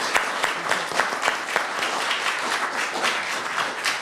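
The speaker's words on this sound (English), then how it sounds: "I want to just have a round of applause for the presentation." An audience at an Olmsted Society lecture on restoring Wright buildings claps for the presentation: loud, lively applause with distinct sharp claps standing out early, settling into an even rolling patter.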